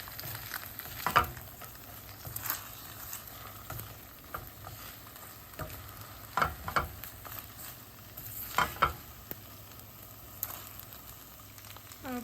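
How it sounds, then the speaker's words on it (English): Scrambled eggs sizzle and fry in a preheated pan, giving a steady low crackle with a few louder stirring scrapes and bursts, close and alone with no talk. "preheat your pan and make some scrambled eggs"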